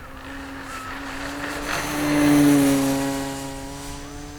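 Durafly Carbon Arcus 1000mm F3A aerobatic RC biplane in flight, its electric motor and propeller whining steadily, rising and falling in pitch as it passes closer around the middle before drifting off again.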